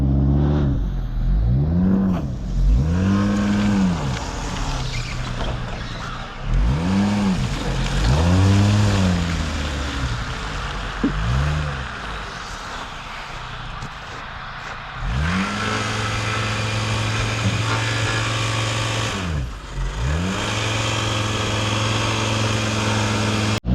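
A VW Beetle engine revs repeatedly in rising and falling surges as the car strains off a driveway, loud and close, with a steadier sustained rev near the end and no talk.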